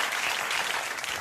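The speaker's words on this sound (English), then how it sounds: "You're applauding" A late-night talk show studio audience claps in a dense, steady burst, loud and continuous throughout.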